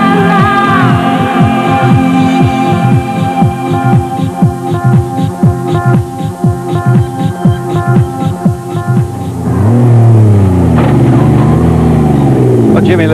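A Dakar 2000 rally vehicle roars past, a loud engine throbbing in rapid regular pulses that build, then shift into a rising, swelling whine as it goes by, with a voice talking over it.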